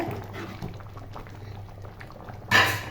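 Citron pickle pieces bubble in a pot with a low, steady simmer, quiet and close, then a brief louder burst of bubbling near the end.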